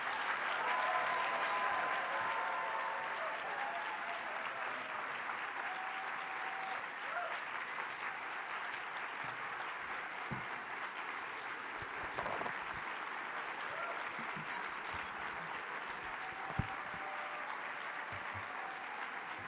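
About 1,500 conference attendees applaud a speaker taking the stage, sustained dense clapping that holds steady and slowly thins toward the end.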